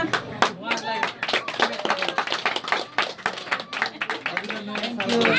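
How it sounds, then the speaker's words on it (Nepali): People clap at a home birthday party for a brother as a cake is cut, uneven group clapping with irregular sharp claps, under lively talk and voices nearby. "अब हामी ताली बजाएर"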